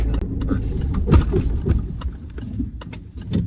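A car engine idling steadily after starting during a driving lesson, heard from inside the vehicle with clicks and rattles over it and people talking nearby.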